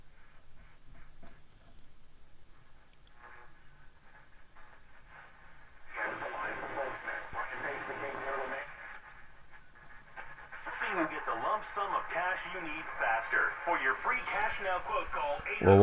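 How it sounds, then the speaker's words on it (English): A restored 1932 Philco Junior 80C tube radio gives off crackling static that swells partway through and grows louder toward the end, with faint broadcast sound mixed into the noise. "I do hear some static."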